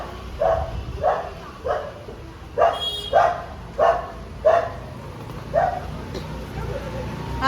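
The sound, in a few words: dog barking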